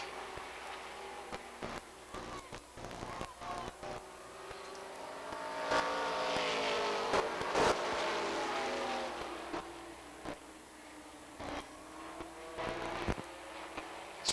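Late model stock cars race around Beech Ridge Motor Speedway in 1992, a rough distant engine drone that swells as a car roars past midway, with crackling clicks and noise over the track sound.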